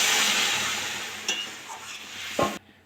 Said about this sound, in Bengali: আর বুটির গরম জলটা দিয়ে দেবো।